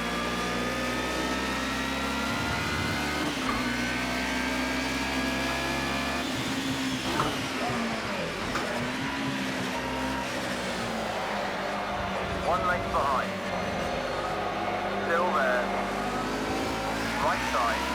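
DTM race car engines droning in a pack at Silverstone in Project Cars 2, a steady high whine with shifting pitch that stays loud and continuous throughout, with a voice talking over it.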